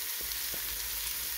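Onion pieces frying in a pan for butternut squash soup, a steady close hiss of sizzling with a couple of faint stirring clicks, no voices.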